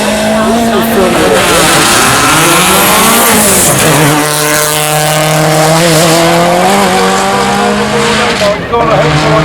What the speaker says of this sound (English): One of the S1 cars, it's Andy Cricks that's driving it.